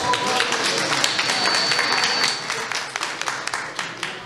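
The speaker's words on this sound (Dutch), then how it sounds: "geef ze een applaus" Audience applause at an election debate in a village community hall in Uddel, a dense burst of clapping that thins into scattered separate claps in the last seconds.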